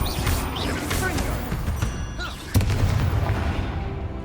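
A Confringo fire spell explosion in the Hogwarts Legacy video game, a sharp blast with a low rumbling boom, set amid busy game effects while a voice talks over it.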